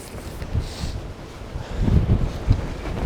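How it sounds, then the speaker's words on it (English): Gusty wind buffeting the microphone on an open moorland edge, low rumbling bursts rising and falling in strength with no voices. "Oh, getting windy."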